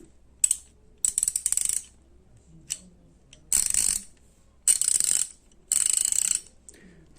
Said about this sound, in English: here's the Craftsman ratchet with the Stanley internals.